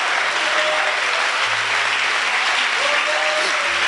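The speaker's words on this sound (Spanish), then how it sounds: "Dale un aplauso al Rey" Loud applause from a church congregation, a dense, continuous clapping crowd close by, with faint tonal sounds mixed underneath.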